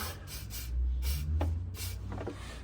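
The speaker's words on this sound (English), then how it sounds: "I'm going to use some silicone spray, get it nicely lubed up." Several short hissing bursts from an aerosol can of silicone spray, close by, over a low steady hum.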